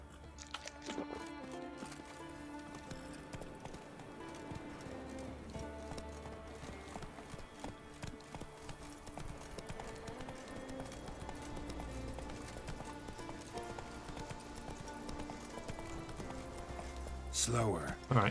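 The horse Roach in The Witcher 3 runs with steady rhythmic hoofbeats under ongoing game music, while someone talks over it at moderate volume.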